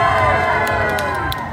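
A street-show crowd at Pier 39 roars with cheering and screaming, a loud, sustained wall of many voices with little distinct clapping.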